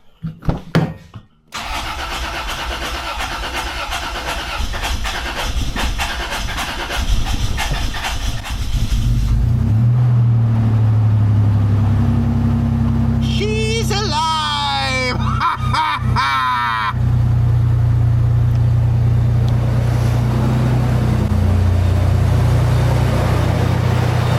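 A supercharged third-generation Toyota 4Runner engine cranks briefly, catches and settles into a loud, steady idle close by, with a rising whir and a few revs along the way before it holds a constant hum.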